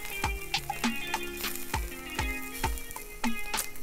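Blackened salmon sizzles in a hot pan, with a steady fry punctuated by repeated sharp pops and crackles close up.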